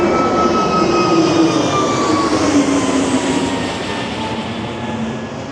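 A jet airliner climbs away after takeoff from Phuket airport beside Mai Khao Beach, a loud, broad engine roar with gliding whining tones that slowly fades as it moves off.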